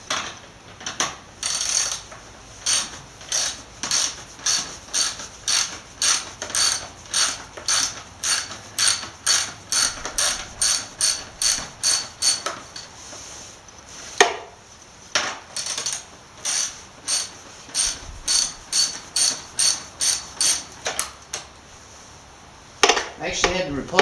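A ratchet wrench works on the top bolts of a motocross bike, giving long runs of quick, regular metallic clicks in short bursts with brief pauses, close and fairly loud.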